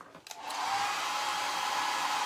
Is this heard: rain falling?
no